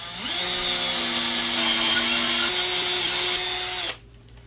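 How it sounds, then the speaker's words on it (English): A power drill runs steadily at close range while boring a hole into a guitar body, its whine holding constant for several seconds before cutting off abruptly near the end. "drill out the hole"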